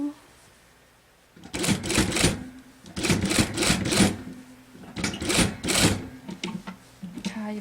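A sewing machine stitches a quilted top in several short bursts of rapid mechanical clatter, close up, separated by brief pauses. A person talks quietly in the background.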